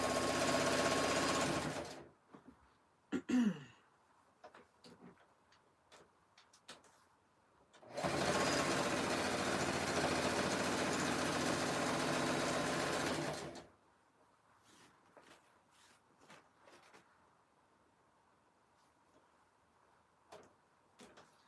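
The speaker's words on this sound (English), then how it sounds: "And I'm sewing a straight stitch as close to the right hand side as I can" A sewing machine runs a straight stitch along fabric strips for a jelly roll rug, two loud steady bursts of whirring with a pause between, and scattered small clicks and handling noises in the quiet gaps.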